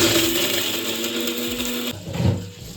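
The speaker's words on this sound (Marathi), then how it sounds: "आपण आता हे असे आंगडे करूया मिक्सरमध्ये बारीक" Mixer grinder blending crab pieces for a Konkani-style crab curry, a loud steady mechanical whir with a sustained motor hum that cuts off partway through, leaving a fainter rattling clatter at the end.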